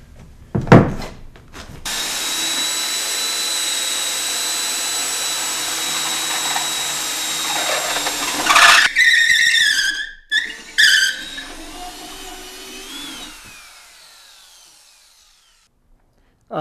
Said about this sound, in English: After drilling the hole through the piling, I'm going to put this 3/4 bolt through the piling.